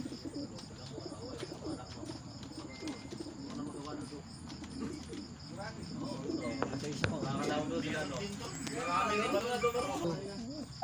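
Pigeons with stickered bands coo steadily in a loft setting, their soft repeated calls mixed with other bird chatter and voices talking nearby, growing busier toward the end.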